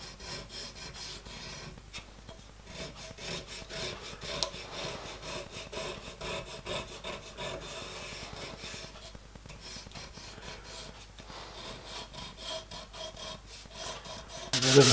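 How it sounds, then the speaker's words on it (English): A triangular riffler file cuts a small V into metal on a 5-inch gauge model steam locomotive part, a steady series of close, quick rasping strokes in an even rhythm. "So I've just got a triangular riffler file here. So I'm just going to go along there"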